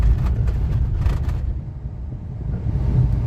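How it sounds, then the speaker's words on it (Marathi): A car rumbles steadily along a rough, red-dust road near Pali on the Mumbai–Goa highway. Rattling bumps break through early over a constant low road and wind roar. "आणि गाडीचा पण खुळखुळा होतो अशा रस्त्यावरनं जाताना"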